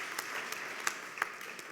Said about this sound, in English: I'd like a round of applause to all of you.